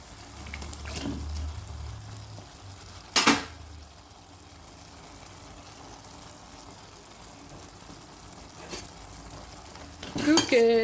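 Chopped tomatoes go into a pan of half-cooked mushroom masala, with a soft low sizzle, a couple of sharp spoon-on-pan clinks and stirring scrapes, and faint rustling at the end.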